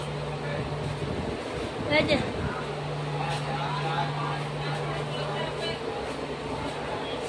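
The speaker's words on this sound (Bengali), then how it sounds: "বন্ধুরা ট্রেনে উঠে গেছি।" Steady low rumble and rattle of a moving train carriage on the way to Cooch Behar, a constant hum underneath, with people talking over it.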